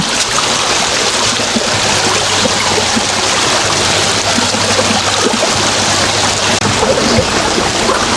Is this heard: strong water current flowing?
yes